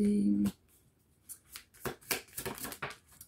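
A card drawn from a tarot-style deck, heard as a few soft, close paper flicks and slides following a brief tone, with quiet talk around it.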